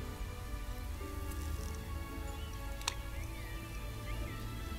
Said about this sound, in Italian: Che c'è? Comincia a piovere?